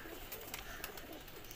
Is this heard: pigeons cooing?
yes